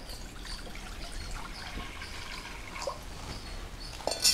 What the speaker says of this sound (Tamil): இப்போ தண்ணியை ஊற்றிப்போம்.